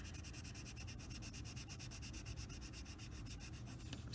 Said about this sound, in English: I'm doing is burnishing at this point with the colors that I have in place